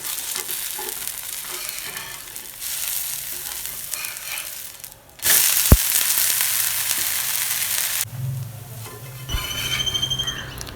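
A wheat flour onion dosa fries on a pan with a continuous hissing sizzle that surges loudly midway, with a few scraping knocks and a quieter crackle toward the end.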